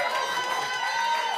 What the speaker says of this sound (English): You have to cheer your person on, right?